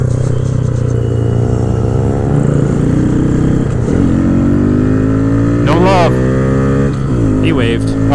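A 2022 Honda Grom motorcycle with cam, intake and ECU flash mods rides along a trail detour, its small engine droning steadily and rising in pitch as it revs, with riders talking over it.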